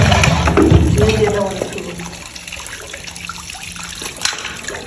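Water trickles and splashes during washing and cleaning, loudest in the first two seconds and then settling to a softer, steady flow with faint background sounds.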